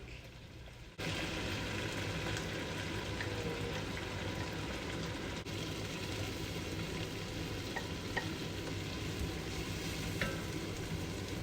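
Beef with onion and garlic sautés in a pan, a dense continuous sizzle that starts abruptly after a brief quieter moment, with faint stirring scrapes and no talking.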